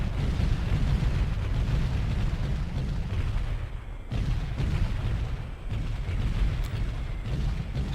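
Artillery fire in the helicopter game Comanche Gold: a continuous low rumble of distant booms and explosions that rolls on for several seconds, easing briefly partway through and then swelling again.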